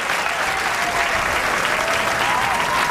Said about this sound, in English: That was a long applause for a one-bagger.